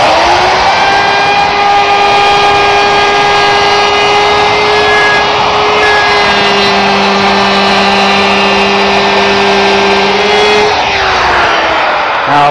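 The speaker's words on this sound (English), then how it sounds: "Now let's do the round over of three sides on the top and middle shelf. And for that, I've equipped the router with a 3/8 inch radius bit." A wood router fitted with a 3/8 inch radius round-over bit cuts along the edges of cupboard shelves, giving a loud, steady high-pitched whine that holds for several seconds before the motor starts to wind down near the end.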